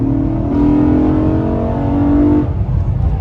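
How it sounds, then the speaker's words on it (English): A manual Honda Accord V6 engine revs up loudly and close, pitch climbing steadily for a couple of seconds before easing off as if shifting gear. "I'm going to speed a little bit here. And this V6"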